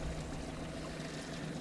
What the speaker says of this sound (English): Too much boating noise can put fish down